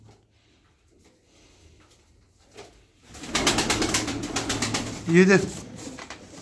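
Pigeons coo and flutter nearby after a quiet start, with a burst of wing and body noise and a short coo. A voice counts over the birds.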